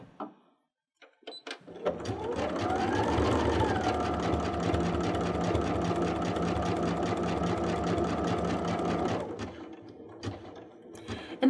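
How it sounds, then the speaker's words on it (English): A sewing machine sews a wide zigzag stitch through a walking foot with digital dual feed, running steadily and close for about seven seconds with a rising then level whir, and a few handling clicks before and after. "So I'll select a standard zigzag stitch, and I'm going to make it as wide as it can go."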